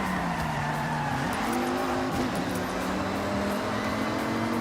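Race cars in the Forza Horizon video game, loud engine tones rising and shifting through gears with tire squeal and skidding as cars corner, continuous and close with no talking.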